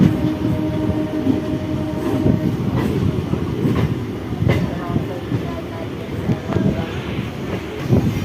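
A train runs along a railway line in West Bengal, a continuous loud rumble with rhythmic clatter heard from nearby, under faint intermittent voices.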